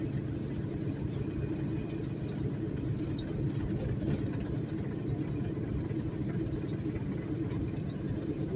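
A car engine idles on wet roads with a steady, low, continuous rumble that stays even throughout, without any revving.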